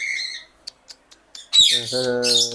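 A male parakeet chick gives a few short clicks and chirps, then breaks into a loud, harsh, buzzing squawk that runs on, close up.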